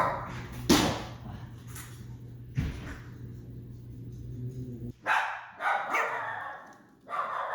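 An insecure herding dog guarding resources barks in sharp, loud bursts at close range, a few single barks followed by a quick cluster of barks.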